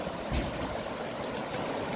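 Water rushes and gurgles steadily through a gold sluice, a continuous close flowing sound with no voices.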